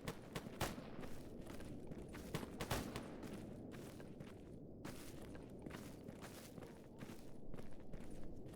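Distant gunshots ring out in STALKER GAMMA, a scattered run of faint, sharp cracks spaced irregularly over a steady background murmur, with no one talking.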